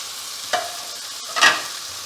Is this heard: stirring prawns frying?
yes